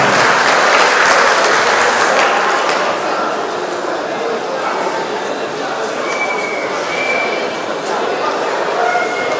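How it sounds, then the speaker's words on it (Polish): A crowd at a district boxing championship in Lublin applauds loudly and continuously, a dense steady clapping roar that fills the whole stretch with a voice faintly underneath. "Jeszcze raz duże brawa"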